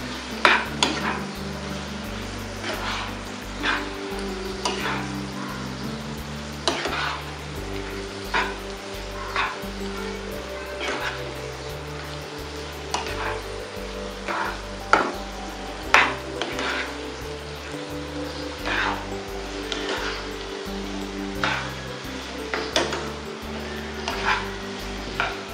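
Turmeric and Koli masala are stirred in a sizzling frying pan, a steady close frying hiss with repeated scraping strokes and spoon taps against the pan, alongside a low rhythmic background beat, with no talking.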